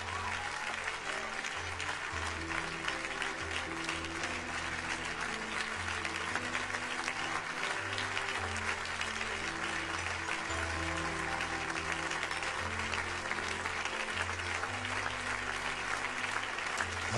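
A church congregation applauds in praise of the Lord, a dense, sustained wash of clapping from many hands that continues evenly throughout.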